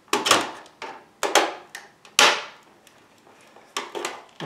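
A flat screwdriver prying and releasing a plastic clip on an Xbox 360, several sharp close clicks and knocks of plastic in separate bursts with brief quiet gaps between.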